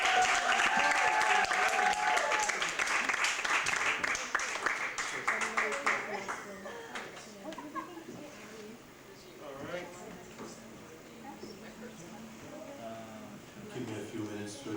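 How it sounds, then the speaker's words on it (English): A crowd at a poetry night applauds loudly as a poet is welcomed to the stage; the clapping fades after about six seconds, and talking and crowd murmur carry on underneath. "Round of applause, please"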